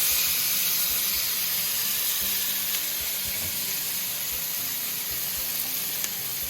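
A miso-glazed salmon steak sears in a pan just after being flipped, producing a continuous loud hissing sizzle with faint spits and crackles, no voices.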